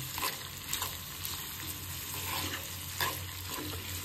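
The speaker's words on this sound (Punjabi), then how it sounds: "ਤੜਕਾ ਆਪਣਾ ਲੱਗ ਰਿਹਾ, ਇਹ ਬਣ ਰਹੀ ਹੈ ਆਪਣੀ ਬਟਰੀ ਚੀਜ਼ ਦੀ ਮੈਗੀ" Butter tadka sizzles in a pan while cheesy butter Maggi is being made, a soft continuous frying hiss with occasional stirring scrapes and light crackles, close and fairly quiet.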